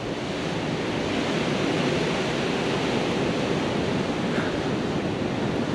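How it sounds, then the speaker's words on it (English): Steady, roaring wind noise buffets the microphone, blended with a broad wash like surf, continuous and loud throughout with no talking, at Boscombe Pier by the sea. "It's quite hard because it's quite windy at the moment."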